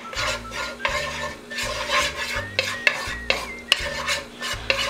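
Chopped garlic frying in a pan while being stirred: loud rhythmic scraping strokes over a sizzle, each pass distinct and close, with a few sharp utensil clicks and no talking.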